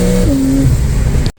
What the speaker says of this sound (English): Hear the turbos real quick.